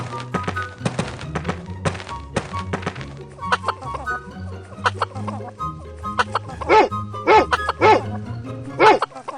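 A cartoon dog barks in a mobile animal painting game, in repeated short yaps over a bouncy music loop with thunks, and clucking chicken calls come in toward the end.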